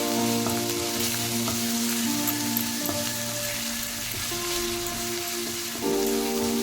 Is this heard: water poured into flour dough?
no